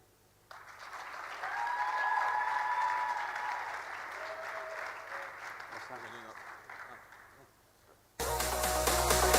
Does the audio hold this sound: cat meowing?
no